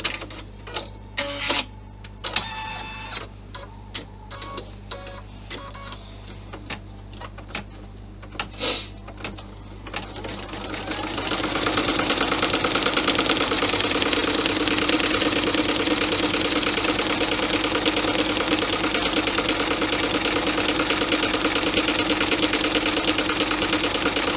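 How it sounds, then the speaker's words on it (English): A sewing machine runs a white satin stitch around the tops of pockets on a Santa bag. It starts with scattered clicks and handling knocks, then settles into a loud, steady mechanical whir for the second half. "put the satin stitch around the top of the pockets"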